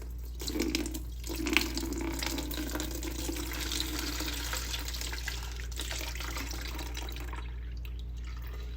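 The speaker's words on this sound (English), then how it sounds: "I'm going to be taking my cup here and scooping" Sorrel punch liquid is scooped with a cup and poured into a fine mesh strainer, splashing and trickling steadily in a continuous watery pour with a low background hum and no voices.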